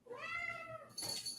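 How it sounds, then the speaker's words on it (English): A house cat meows twice, a long drawn-out cry followed by a shorter, sharper one, fairly close by in an indoor room, with no talking over it. "Is that your cat or mine?"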